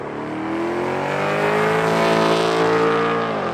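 A twin-turbo Coyote V8 Mustang accelerates hard, its loud engine note climbing steadily in pitch for a few seconds before easing off, close and with no voices.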